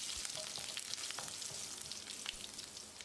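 Steady close sizzling of curry leaves and garlic frying in hot oil, with occasional crackles and stirring sounds, no voices.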